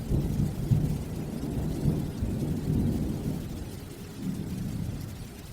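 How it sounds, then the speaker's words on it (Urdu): Heavy torrential rain falls at midnight, and deep thunder rumbles steadily through it, loud and dense, with a dark, stormy feel and no voices. "آدھی رات کا وقت تھا اور موسلا دھار تیز بارش ہو رہی تھی"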